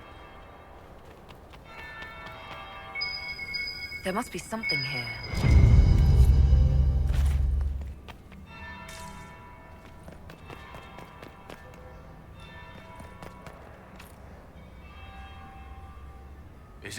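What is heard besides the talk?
bell ringing in Dragon Age Inquisition video game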